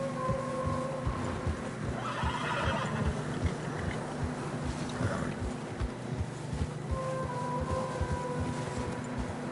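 Horses in snowy mountain terrain in Red Dead Redemption 2 neigh and whinny while their hooves thud steadily in a quick plodding rhythm, close and clear over a low wind-like rumble.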